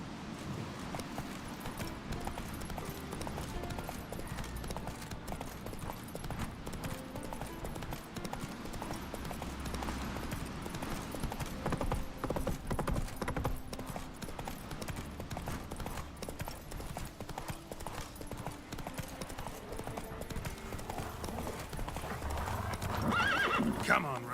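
Roach the horse gallops in The Witcher 3 with a steady clip-clop of hooves and repeated neighs, while a person talks over it throughout.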